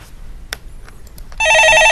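After a few faint clicks, a telephone starts ringing with an incoming call at a call-in stock market show, its loud electronic trill sounding close and steady and continuing to the end.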